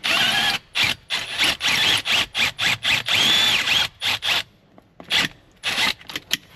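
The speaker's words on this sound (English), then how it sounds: "Just have to drill that a little bit more." A power drill bores out rivets on a handbrake cable assembly in short repeated bursts of grinding whir, about a dozen quick runs with brief pauses between them. It is close and there is no talking.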